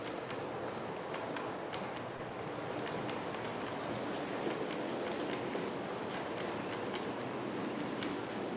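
A model railway Class 25 locomotive runs around the track, a faint steady rolling rumble with regular light clicking of wheels over rail joints, no talking.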